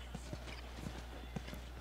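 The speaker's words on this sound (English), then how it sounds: "Horses? You guys have horses." Horse hooves clip-clop at a slow, uneven walk on hard ground in The Last of Us, faint soft knocks over a low background hum.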